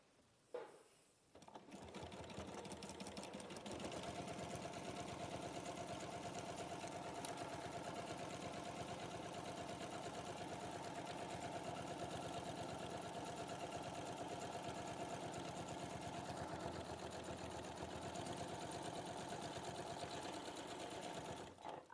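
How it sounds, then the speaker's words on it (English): Sewing machine running steadily for about twenty seconds while stitching a seam with a standard stitch length, a continuous close mechanical whir with a brief pause and start at the beginning. "just sewing it together"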